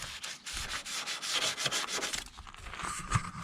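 Steady back-and-forth hand sanding of Peugeot 205 GR body edges, a continuous close scratchy sanding with rhythmic strokes and a brief knock near the end.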